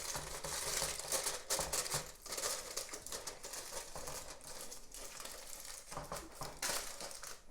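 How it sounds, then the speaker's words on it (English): Aluminium foil is folded and crinkled over a pot of steaming rice, giving close, irregular crackling and crumpling bursts that come and go, with no voices. "you fold in the file paper underneath that pot creases"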